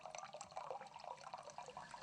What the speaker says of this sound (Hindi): रिसाव को एक बड़े पत्ते के ऊपर से होते हुए 1 लीटर के बर्तन में भरें।